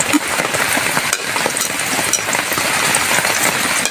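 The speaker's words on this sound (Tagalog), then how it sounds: "Okay, magigisa na tayo." Garlic sautéing in a hot pan for pork hamonado, a loud, dense, continuous crackling sizzle that holds steady throughout with no talk.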